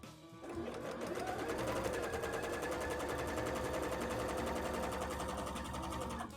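A sewing machine stitches elastic for a bra in a fast, steady run of rapid needle clicks, continuous and fairly quiet, with no talking.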